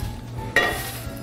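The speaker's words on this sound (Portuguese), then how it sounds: "colocar uma outra frigideira." A frying pan set down on a lit stove burner in a home kitchen, before picanha is seared: one sharp metallic clank with a short ringing tail over a faint steady background hiss.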